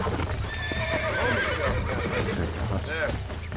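Horse in Red Dead Redemption 2 whinnying in a rising, wavering call over steady clip-clop hoofbeats, with a second whinny near the end and someone talking over the game sounds.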